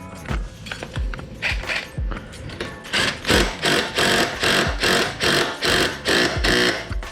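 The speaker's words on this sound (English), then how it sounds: "put that on there like so, get our impact and our socket" An impact wrench and socket tighten a wheel nut on a BMW G82 M4 with BBS wheels, giving a close, loud train of rhythmic mechanical hammering pulses after a few lighter clicks at the start.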